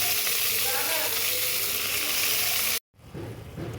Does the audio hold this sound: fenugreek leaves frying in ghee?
yes